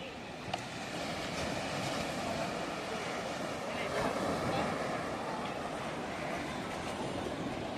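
Sea waves washing steadily onto Kargil beach at Frazerganj, a broad continuous roar of surf heard with people talking nearby.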